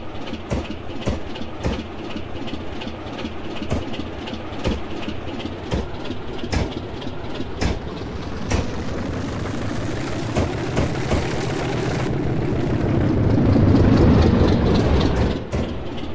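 Class 37 diesel locomotive 37906 passing through a station on the main line, with rhythmic wheel clicks over rail joints and a heavy engine rumble that swells as it nears, loud and alone.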